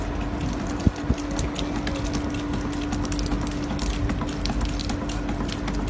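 A homemade hydraulic ram water pump set in a stream bed: two sharp clacks from its check valve early on, then steady rushing water with faint ticking beneath, close and fairly loud.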